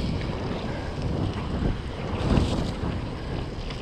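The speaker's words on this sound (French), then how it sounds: "Allez, on traverse une flaque d'eau." A gravel bike rolls through a water puddle outdoors, a steady rushing wash of tyre spray and wind noise that swells briefly midway before settling back, with no voices.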